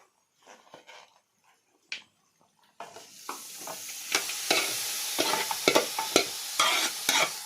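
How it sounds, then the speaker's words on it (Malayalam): Duck meat coated in spice paste is stirred while it fries in a pan, bringing a steady close sizzle with repeated scraping stir strokes and no talking. "നന്നായിട്ടൊന്ന് ഇളക്കി കൊടുക്കുക നന്നായി ഇളക്കി കൊടുക്കുക"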